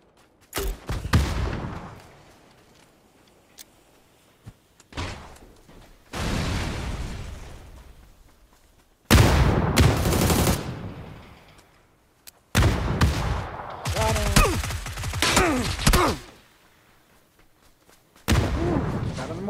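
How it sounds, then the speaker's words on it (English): Bursts of gunfire and heavy blasts in PUBG, coming in loud separate volleys with quiet gaps between them, some close and punchy, others trailing off. "we're getting shot at somewhere else too"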